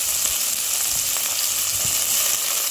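Chopped onions and green chillies fry in a pan for a taro-root curry, giving a loud, dense, continuous sizzle with faint stirring clicks and no voices.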